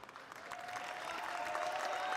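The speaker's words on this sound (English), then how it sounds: "And a big cheer as the Hungarian flag is displayed on David Nagy's mask." Crowd at a fencing Grand Prix semi-final cheers and applauds in a steady, distant wash that swells slightly over its short length.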